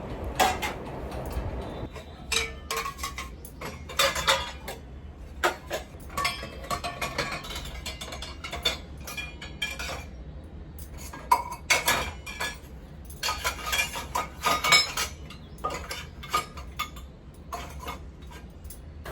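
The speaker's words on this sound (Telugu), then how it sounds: "చూడండి, అన్ని ప్లేట్స్, చిన్న గిన్నెలు, అన్నీ పెడుతున్నాను చూడండి." Plates, small bowls and cutlery are set one by one into the racks of a Bosch dishwasher, giving a steady run of close clinks, clatters and knocks of crockery against wire racks with short pauses between.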